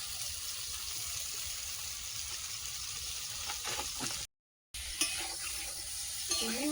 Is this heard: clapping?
no